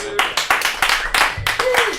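A comedy club crowd gives a comedian a short round of clapping, with sparse, distinct hand claps coming in quick irregular bursts close by, a voice speaking over them.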